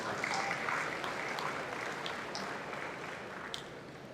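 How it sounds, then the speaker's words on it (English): A gala-night audience giving a round of applause for the bankers, a continuous soft wash of clapping heard from some distance, with a few brighter claps and a faint cheer standing out. "Can we give the bankers a round of applause?"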